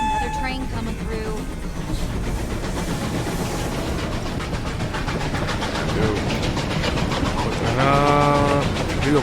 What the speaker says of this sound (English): Glad another train coming through.